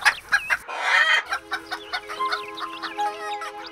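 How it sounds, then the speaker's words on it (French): Cartoon hen clucking in a quick, bright series of calls, close and loud, with squawky rising notes and no speech. "T'as vu cette poule, Gaston?"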